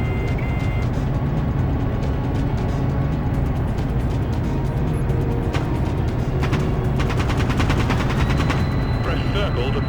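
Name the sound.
cannon and weapon fire in a video game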